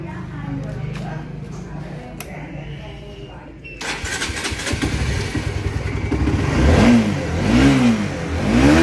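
A Honda CBR motorcycle engine turns over and fires up, then revs in several rising and falling sweeps, loud and close, with voices talking near the start.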